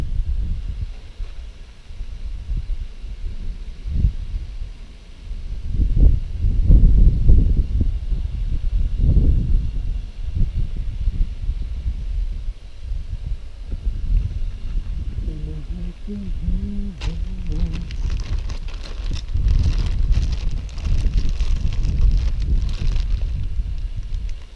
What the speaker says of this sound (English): It's a bit breezy. I think it's going to be pretty windy today